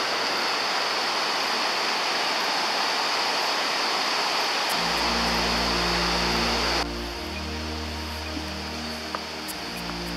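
Water rushes steadily at a spring source of the Pliva river outdoors, a dense broadband roar that holds constant throughout, with a low engine-like hum joining partway and faint background sounds.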